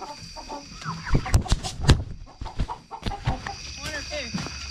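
Chickens clucking and squawking in bursts while being moved by hand at night, close by, with wing flaps and handling noise and people talking amid the birds.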